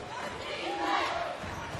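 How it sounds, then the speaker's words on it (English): Crowd noise at a Friday night college men's basketball game between Iona and Rider, a sustained roar of cheering voices from the packed building, swelling slightly in the middle. "Great crowd. A lot of energy in the building whenever we come down here."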